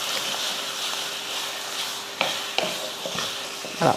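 Chicken being sautéed with masala in oil in a pan, a steady close sizzle with several sharp scrapes and knocks of a spoon stirring against the pan.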